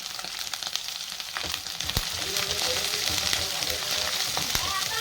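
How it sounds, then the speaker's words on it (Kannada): Onions frying with browned garlic in a pan for egg rice, a close, lively sizzle and crackle that grows louder partway through, with occasional stirring knocks. "ಈರುಳ್ಳಿಯನ್ನು ಸಹಿತ ನಾವು ಚೆನ್ನಾಗಿ ಫ್ರೈ ಮಾಡ್ಕೋಬೇಕಾಗತ್ತೆ"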